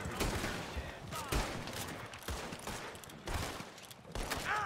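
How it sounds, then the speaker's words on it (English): Gunfire in Red Dead Redemption 2, a chaotic firefight of repeated shots at varying distances in quick irregular bursts, fairly faint in the game mix. "Everybody's shooting."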